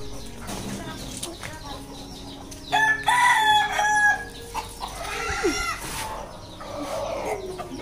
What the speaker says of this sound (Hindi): मुर्गे हैं